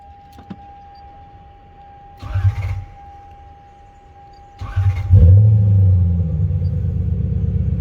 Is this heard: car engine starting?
yes